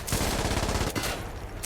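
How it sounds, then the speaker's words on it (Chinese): Rapid automatic gunfire in the tactical shooter game Insurgency Sandstorm, a loud, close burst of quick repeated shots followed by a brief pause and a noisy tail, with no voices. "我这边有枪声，我不知道谁哪里打出来"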